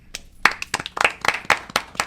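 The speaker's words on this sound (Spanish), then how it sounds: "Un aplauso de cierre." A small group closes a talk on mental health among doctors with brief, close, loose clapping, a handful of sharp individual claps at an uneven rhythm for about two seconds.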